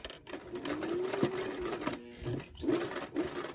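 A sewing machine stitching a white and blue fabric face mask, with a steady, close whirring hum of the motor and needle that pauses briefly before running on.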